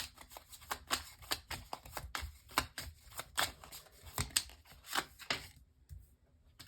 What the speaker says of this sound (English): I want a card for Libra.